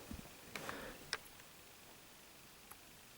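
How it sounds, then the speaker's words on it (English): A faint, irregular ticking from a TV power supply under repair, with a few soft clicks heard close up against a quiet background hiss. "Power supply is ticking."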